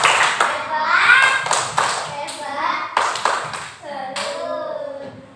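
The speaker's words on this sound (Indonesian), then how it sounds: "Kita kasih tepuk salut buat kelompok salut." Children in a primary school class doing a patterned clap chant together, sharp group claps in rhythmic bursts mixed with their chanting voices.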